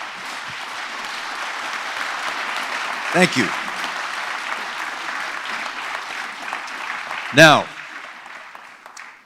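Steady applause from a summit audience on housing supply for a panel, filling most of the stretch with two short louder bursts, followed by a speaker beginning to talk near the end.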